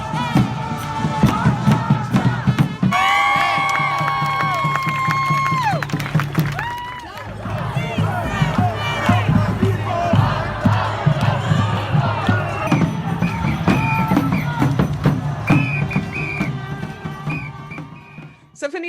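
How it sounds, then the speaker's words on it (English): A crowd celebrating in the streets of Los Angeles cheers and shouts, with long sustained car horn blasts sounding over the noise; lively, dense and continuous, with voices mixed through. "So, Vanita, that was the sound of uproarious joy of people breaking out in dance and song and their cars honking in Los Angeles"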